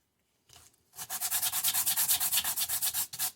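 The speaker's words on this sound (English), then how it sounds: "it's going to take just a little bit of sanding, so let's do that" Sanding a small scroll-sawn wooden phone stand back and forth on a flat MDF sheet, a quick run of about fifteen even, rasping strokes after a brief opening scrape, close and alone.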